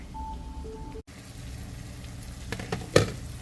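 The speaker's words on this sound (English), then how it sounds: "Now we're gonna fry this up, and when the eddo is completely soft, that's finished." Eddoes fry in a pan with corn and mutton, giving a steady broadband sizzle throughout, a short cut-out near the one-second mark, and a louder clatter or stir near the end.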